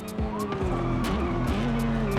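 A police car siren wails in a Forza Horizon 5 chase, its pitch sliding amid engine roar and tyre noise, loud and continuous without speech.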